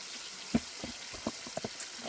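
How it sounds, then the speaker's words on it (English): Catfish nuggets fry in hot oil, giving a constant hiss broken by scattered soft pops and bubbling crackles, heard alone and up close. "Those catfish nuggets are frying up."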